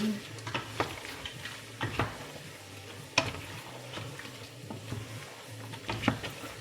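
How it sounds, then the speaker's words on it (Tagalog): Broth is poured into a hot pan of food, giving a soft steady sizzle under repeated scrapes and taps of a spoon stirring against the pan, close by and moderately quiet. "Lagyan natin ng konting sabaw. Para may sabaw-sabaw siya, hindi siya dry."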